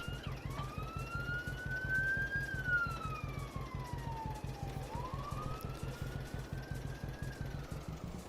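Sirens of passing emergency vehicles wail in the distance, a long rising and falling tone sweeping over steady background traffic rumble with no talk.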